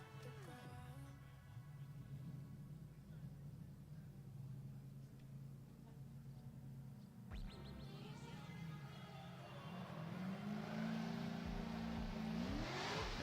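A drift car pulls away from a track at a drifting event, its engine droning and rising under a steady wash of crowd and venue noise, then revving harder and louder toward the end.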